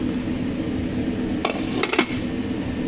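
A lid goes onto a cooking pot of chicken pastel with vegetables, giving a few quick metallic clinks and a small clatter against a steady background hum.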